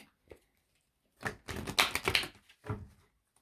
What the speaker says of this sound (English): let me go ahead and get a card out of this deck